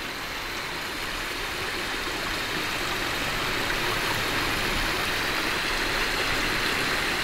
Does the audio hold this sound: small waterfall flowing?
yes